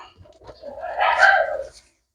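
A red-marked pigeon with white eyes coos once up close, a soft, rolling call swelling and fading over about a second with no talk over it.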